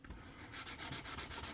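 Rhythmic back-and-forth sanding of glued plastic model kit parts, close and quiet, with short regular scraping strokes following a brief soft rub at the start.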